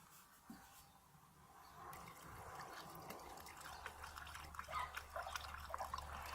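Coolant trickles and splashes as it is poured into the radiator of a Mercedes Sprinter campervan during a coolant flush, a faint, steady liquid pour that grows fuller toward the end.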